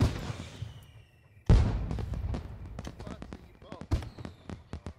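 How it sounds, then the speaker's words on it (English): Fireworks being lit in The Sims 4 go off as a sudden sharp burst, followed by scattered crackling pops and snaps fading against a quieter game background. "at least we can light these fireworks"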